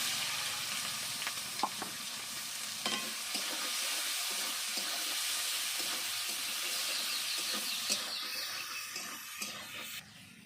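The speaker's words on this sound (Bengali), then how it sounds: "পেঁয়াজটা আমি লাল লাল করে ভেজে নিয়েছি" Chopped onions and cumin frying in hot oil, a bright, steady hiss of sizzling with occasional soft stirring scrapes, close and continuous before fading slightly at the end.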